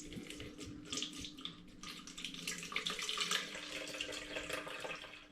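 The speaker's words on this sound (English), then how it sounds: "I'm going to pour gently from the bottle, hopefully separating the liquid from the mould." Home-brewed apple, hops and sumac wine with mould in it, poured gently from a bottle through a coffee filter: a steady, close liquid trickle and splash running continuously, with no talking.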